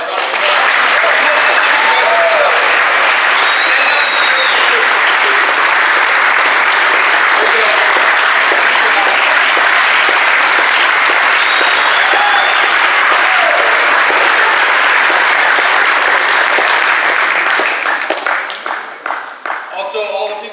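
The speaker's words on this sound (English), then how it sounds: "If we can give them all a round of applause." A crowd at a championship basketball event applauds the kitchen volunteers who made the food, sustained dense clapping that stays loud and even for most of the stretch before thinning out near the end.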